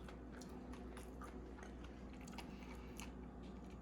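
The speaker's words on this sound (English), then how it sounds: "Yeah, there's still some crunch on that pickle." Crunchy pickle being bitten and chewed along with a thawed McDonald's Quarter Pounder with Cheese that had been frozen for a year, close and soft, with steady wet crunching and chewing over a low constant hum.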